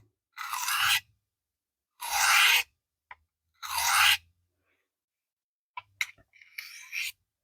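The blade of a Rough Ryder canoe pocket knife is stroked across a finer-grit sharpening stone. Three distinct rasping passes are separated by silence, followed by a few shorter scrapes and taps, close up.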